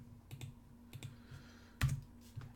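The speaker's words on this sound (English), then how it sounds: "So say we want Diane, we open quotes, type her name," Several soft, close keystrokes on a computer keyboard tap out a few short bursts, with one sharper, louder key press near the end, in a quiet room.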